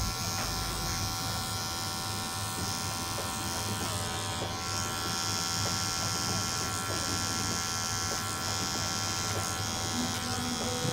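Electric hair clippers buzz steadily and close up while trimming away tiny bits of hair during a skin fade haircut, a continuous, even drone with faint scratchy texture throughout.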